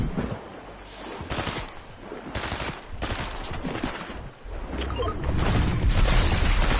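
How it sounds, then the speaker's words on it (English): Gunfire in a video game: repeated loud bursts of shooting spread across the whole stretch, dense and close, mixed with explosive booms and constant game noise. "Who's shooting at me now?"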